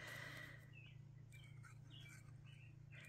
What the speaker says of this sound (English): Do y'all hear that little bird out there? He is just a happy little thing this morning.